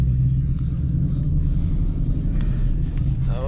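Ford Mustang Mach 1 V8 rumbling steadily while cruising, a deep continuous low drone heard from inside the car with faint road and cabin noise.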